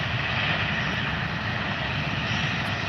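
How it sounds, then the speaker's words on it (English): A Jetstar Australia A320 jet roars steadily as its engines power up for takeoff, a loud, continuous broadband rumble heard from a distance. "Jetstar Australia A320 CEO. Powering up for a turn and burn."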